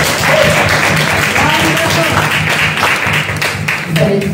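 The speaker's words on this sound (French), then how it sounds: "Est-ce qu'on peut applaudir là?" Audience applause at a Paris concert-promotion event for a group at the Dôme de Paris, a steady dense wash of clapping filling the whole stretch with crowd murmur beneath.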